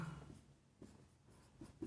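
A pen scratches across paper in faint, short bursts of strokes separated by brief pauses, close and quiet with no voices.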